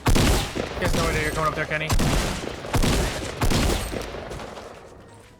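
Fortnite gunfire, a few sharp loud shots and short bursts during a battle royale match, mixed with game sounds while players talk over it.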